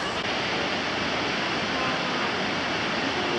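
A waterfall at Plitvice Lakes, Croatia roars as a dense, steady wash of noise, loud and close, with no break.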